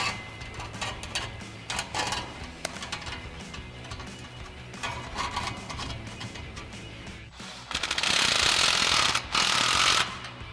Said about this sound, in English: we can go ahead and snug down this clamp